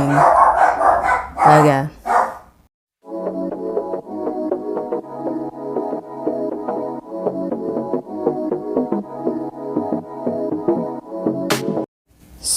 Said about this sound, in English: here goes the dog barking